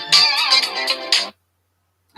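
A T-Mobile phone ringtone plays loud and close, a bright melodic chime of several rising notes, then cuts off into silence.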